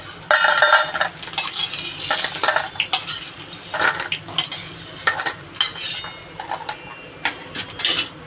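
Bori lentil dumplings frying in oil in a kadai, with steady sizzling broken by scraping stirs of a metal spatula against the pan.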